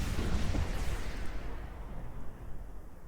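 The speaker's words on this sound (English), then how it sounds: "Zeons are blowing up all that group." Ships blowing up in a space battle in the strategy game Master of Orion: a dense, loud roar of overlapping blasts that swells at the start, then fades to a lower rumble.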